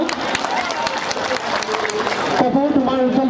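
Audience applause for a Bihu dance performer at a competition, a steady dense wash of clapping filling the clip, with a tonal sound rising near the end.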